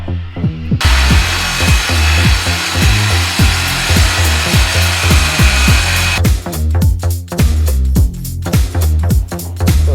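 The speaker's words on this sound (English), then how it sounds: "Chainsaw at least." A chainsaw cuts through wood, loud and close, with a harsh roar and rhythmic grinding pulses as the blade bites in. No one speaks.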